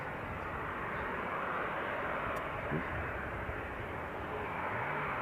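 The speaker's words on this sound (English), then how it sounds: "I swear I can hear a plane." A plane flying near Leeds Bradford Airport gives a steady, broad, low engine roar under outdoor wind noise, distant and continuous throughout.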